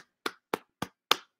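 Four sharp, evenly spaced hand claps, close and dry with silence between them, as from a single person giving a brief round of applause.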